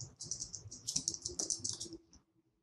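Rapid keystrokes on a computer keyboard, a quick dense burst of clicky taps lasting about two seconds before stopping, close and quiet, with no speech.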